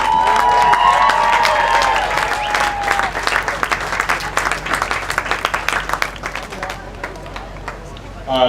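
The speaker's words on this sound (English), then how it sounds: "How about a big hand for our seniors?" An audience at a cheer awards and senior recognition ceremony breaks into loud applause and cheering for the seniors, dense clapping with whoops that thins into scattered claps toward the end.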